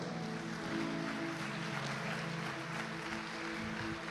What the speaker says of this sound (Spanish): Vamos a tributarle un fuerte aplauso al Señor